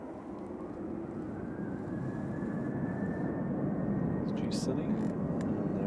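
A Ryanair aircraft departs Manchester Airport with a steady, distant engine roar that builds slightly and holds, broad and rumbling, with faint voices briefly over it.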